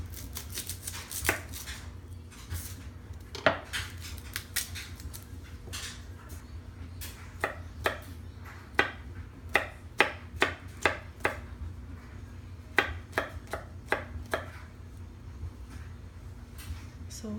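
A knife chops garlic on a cutting board, sharp irregular taps clustering into quick bursts over a low background hum, moderately close with no talking.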